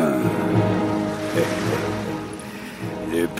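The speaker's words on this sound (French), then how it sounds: "Le paquet est entré dans la mer comme une flèche" Sea waves washing and churning with a steady, loud rush of water, up close, after a package is dropped into the sea from a boat.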